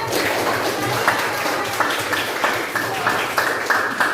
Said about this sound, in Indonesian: Oke, kasih tepuk tangan juga.